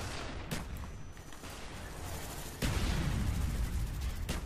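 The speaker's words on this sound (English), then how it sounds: "Nades all over!" Grenade explosions in Call of Duty Black Ops, faint and distant-sounding, several sharp blasts scattered among low rumbling battle noise.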